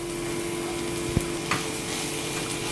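Potatoes sizzle in hot oil in an avul upma pan, a loud, steady crackling hiss with a couple of brief spoon clinks and stirring scrapes close up, and no speech.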